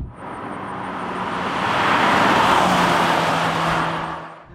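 A Polestar 1 driving fast on a race track, its steady loud roar swelling and fading as it speeds past, with no talk.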